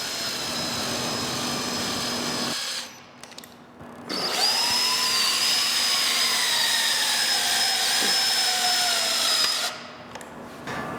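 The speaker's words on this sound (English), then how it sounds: "Next, we will install pocket screws just until they're snug." A power drill drives pocket screws into a wooden blanket chest frame joining stiles and rails: a close, loud whine runs for a couple of seconds, stops briefly, then a longer run with pitch slowly dropping under load, ending in another pause.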